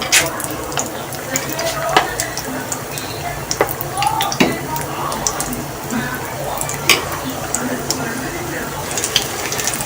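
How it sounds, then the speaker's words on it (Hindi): Besan-dipped pakoras fry in hot oil with a steady bubbling sizzle, broken by occasional sharp clinks of a utensil against the pan. "ये बेसन में डिप करके वैसे इसको फ्राई करूँगी।"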